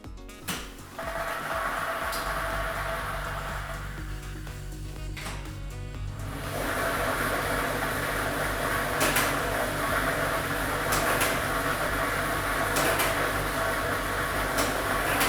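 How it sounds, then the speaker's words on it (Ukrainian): A lottery ball drawing machine, lototron B loaded with ball set number 2, running with a steady loud mechanical whir and tumbling rattle after a few clicks and knocks at the start. "Тиражна комісія до початку гри довільно обрала лототрон Б комплект кульок номер 2 І ми вмикаємо лототрон."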